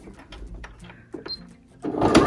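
A sewing machine backstitches through a pleated pelmet stiffened with buckram, short mechanical stitching bursts and clicks close by, ending in a louder whirring run.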